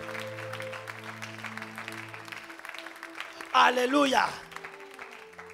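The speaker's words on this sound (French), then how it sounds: "Quelqu'un ici acclame très fort le Seigneur." A church congregation bursts into applause and cheering for the Lord, a loud swell of clapping that rises suddenly after a preacher's voice and soon fades while he keeps speaking.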